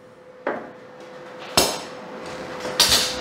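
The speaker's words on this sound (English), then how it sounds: "Now I can take my clamp off." A clamp is removed from a freshly tack-welded roof on a chopped 1951 Chevy truck, giving three sharp metallic clanks spaced about a second apart, loud and close, with no talk.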